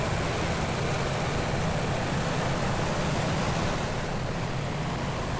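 Military vehicle engines in Combat Mission: Cold War, a loud, steady, broadband rumble and roar that stays constant with no talk over it.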